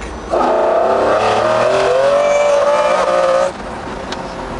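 A McLaren F1 sports car, driven hard, accelerates with a loud, close engine roar that climbs steadily in pitch for about three seconds, then drops back to a lower hum.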